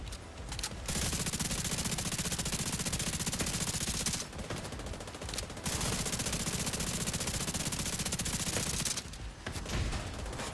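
Sustained automatic gunfire in The Division 2, loud, rapid and continuous, with only a few short pauses between long bursts.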